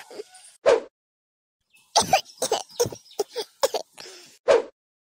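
A string of harsh coughs, near and fairly loud: one isolated cough, a pause, then a rapid cluster of several more, ending with a final cough.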